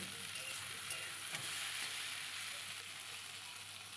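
Onions frying in a pan for a mustard kochur loti dish give a soft, even sizzle that stays faint and steady throughout, with light stirring texture underneath.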